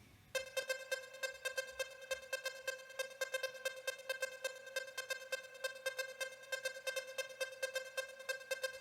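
An ARP Odyssey synthesizer preset repeats a single note many times at a fast steady rhythm, with heavy delay and a slight tremolo, bright and buzzy, fairly quiet and without any voices.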